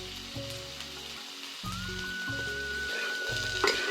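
Chickpeas with salt sautéing in oil in a pan for chana masala, giving a steady close sizzle broken by low rhythmic stirring and scraping bursts, with no talk.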